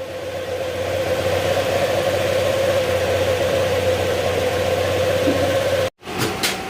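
A Honda Click 125 scooter engine, freshly overhauled, idles steadily while warming up, a close, even mechanical drone with a constant hum, cut off by a sudden drop near the end before the noise returns.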